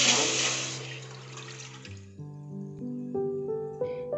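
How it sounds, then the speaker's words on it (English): Milk poured into a pot for a turmeric and cinnamon golden drink, a splashing pour lasting about two seconds that fades out while steady background music carries on. "pour 1 cup of milk in the pot"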